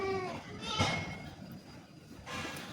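Male goats kept for Eid sacrifice on a farm give a faint, short bleat at the start, followed by quiet farmyard rustling and distant voices.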